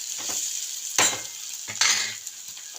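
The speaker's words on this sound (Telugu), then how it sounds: "కొంచెం అల్లం వెల్లుల్లి పేస్ట్ వేసుకుందాం. ఒకసారి మిక్స్ చేసుకుందాము. బాగా ఫ్రై అవ్వాలి," Ginger garlic paste frying in a pan for a moong dal spinach fry gives a bright continuous sizzle, broken by a few scraping stirs and light clinks of a spoon against the pan, close up, with no talking.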